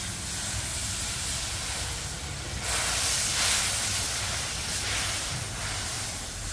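Steady hissing sizzle of water hitting hot masala in a pan over a wood-fired chulha, continuous and close, swelling briefly louder midway.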